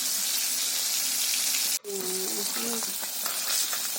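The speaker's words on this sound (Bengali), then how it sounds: "তেল গরম হয়ে গিয়েছে, এবার মাছ দিয়ে দেব।" Fish sizzles loudly and steadily in hot oil in a wok, a dense continuous frying hiss with a brief dip partway through and faint scraping clinks after it.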